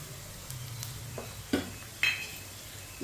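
Browned onion fries with crushed garlic and ginger for sarson ka saag, giving a soft, steady sizzle close by, broken by a few quick stirring scrapes and clinks of a spoon against the pan.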